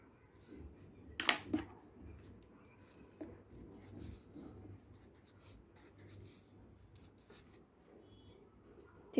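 Numbers being written on a board while working a transportation table, soft scratchy strokes with a couple of sharper taps, close and quiet against a faint background hum.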